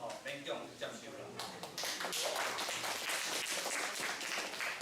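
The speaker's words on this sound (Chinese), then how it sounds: "各位的掌声就是我最大的鼓舞" Applause from an audience at a basic life support and first aid lecture, a crowd clapping in a hall that rises into a steady, dense wash and continues to the end, with a voice talking near the start.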